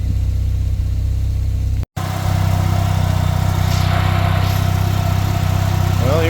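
A turbocharged Mazda RX7 rotary engine runs steadily close by, a loud continuous rumbling drone with a brief dropout near the start.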